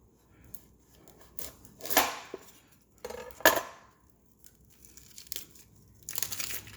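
A knife dices an onion for homemade Korean bulgogi sauce in several irregular, crisp chopping and crunching bursts with quiet gaps between them.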